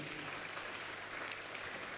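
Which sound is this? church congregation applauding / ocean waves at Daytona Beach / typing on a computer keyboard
church congregation applauding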